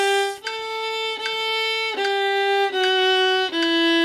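A solo violin plays the fifth measure of "Ode to Joy", a slow, clear melody of five sustained bowed notes, each stepping slightly lower in pitch.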